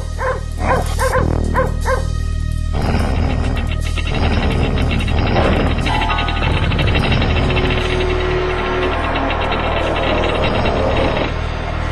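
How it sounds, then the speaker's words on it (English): Several dogs bark and yip over a dense, loud, steady background of rumbling noise, with whimpering yelps mixed in and no talking. "And then, those dogs."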